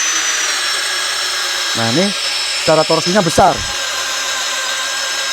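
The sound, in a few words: APR AP34+ cordless impact drill drilling at speed 1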